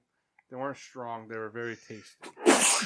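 A person speaks a few words, then a single sharp sneeze bursts out close and loud at the very end.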